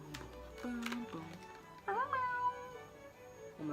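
A pet cat meows twice indoors, a short call followed by a longer, rising and falling meow, fairly close and clear against quiet room sound.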